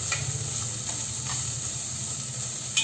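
Grated coconut sautéed in a hot pan for Narali Bhat gives a steady close sizzle and hiss, with a few soft stirring scrapes and a sharper knock near the end.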